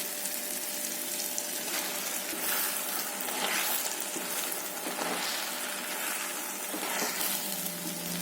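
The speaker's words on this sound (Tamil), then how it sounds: "இப்போது இதில் நம்ம மஷ்ரூமை சேர்க்கலாம்." Mushrooms fry in an oily masala gravy for a Tamil-style mushroom curry, giving a steady, even sizzle with soft stirring scrapes that carries on throughout with no talking.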